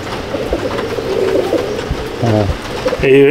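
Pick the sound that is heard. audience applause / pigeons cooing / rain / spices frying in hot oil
pigeons cooing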